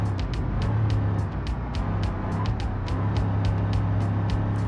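A Ford Crown Victoria's engine roars steadily at speed in BeamNG.drive, a loud continuous drone with repeated sharp ticking clicks layered on top as the car runs hard down the road.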